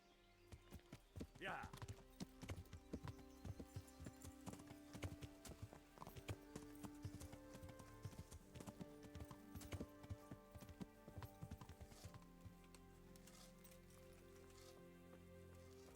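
Horse hooves clip-clop steadily in the video game Kingdom Come Deliverance, a moderately loud regular rhythm over a game soundscape, with a voice talking over it.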